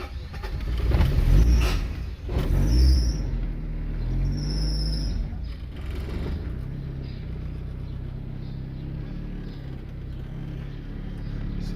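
A 1991 Honda Civic EF with a swapped D16 engine cranks and fires on a cold start, a close low rumble surging briefly before settling into a steady idle drone.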